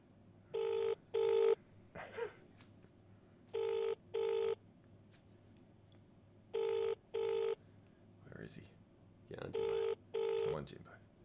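A telephone rings through an outgoing call on a radio show, with four evenly spaced double rings, each a pair of short buzzing tones, clear and moderately loud, while people talk quietly between them.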